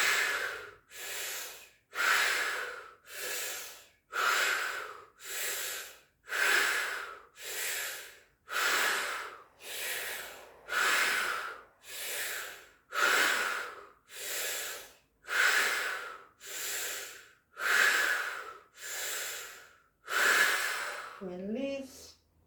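Slow, steady yoga breathing, with about eighteen even breaths in and out in a regular rhythm, close and breathy, during a full-moon yoga session.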